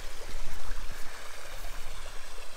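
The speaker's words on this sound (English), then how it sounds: "the pipe couldn't take all that water that I was releasing from the ditch" Water released from a ditch rushes through a pipe, a steady, full broadband roar of flowing water that continues without break, close and fairly loud.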